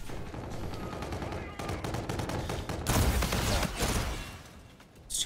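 Bursts of automatic gunfire in Call of Duty Infinite Warfare multiplayer, close and sustained, with rapid rhythmic shots and a heavier, denser volley near the middle, fairly quiet overall.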